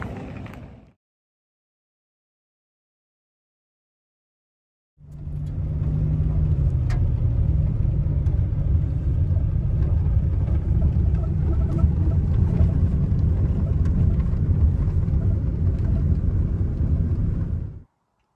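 A 1946 Chevrolet 1.5 or 2-ton truck engine rumbles steadily and loudly for about thirteen seconds, deep and even, following a brief burst and a few seconds of silence.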